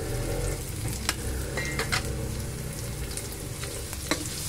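Onions sizzle in a pan for pork kare-kare under a steady, fairly quiet hiss, broken by a few sharp clicks and scrapes from stirring, with no one speaking.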